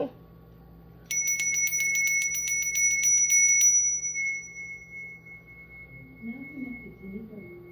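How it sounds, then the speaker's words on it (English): A small bell, the ringing bicycle-bell type, rings in a rapid train of bright metallic strikes for about three seconds and then fades into a long ringing tail, heard close and fairly loud over quiet room tone. "Let me ring my bell."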